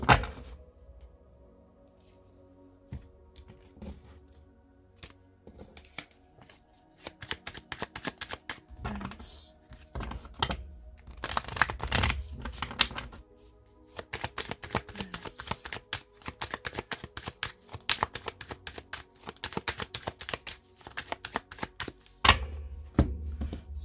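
A deck of oracle cards being shuffled and cut by hand: bursts of rapid, crisp flicking and slapping snaps, close and dry, that come in waves separated by short quiet pauses.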